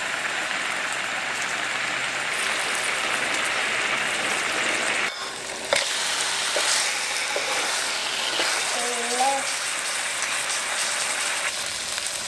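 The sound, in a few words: marinated salmon sizzling as it grills in a frying pan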